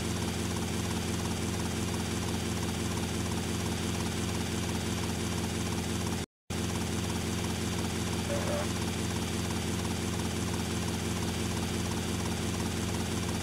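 Helicopter in the GTA: Vice City video game: a steady, loud rotor and engine drone fills the whole stretch unbroken except for a very short dropout partway through.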